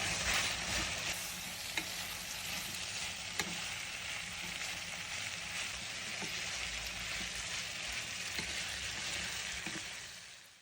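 Gnocchi cooks in sauce in a pan over slightly more than medium heat, a dense, even sizzle and bubbling that runs steadily throughout and fades slightly at the end.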